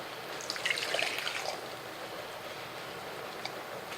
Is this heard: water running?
yes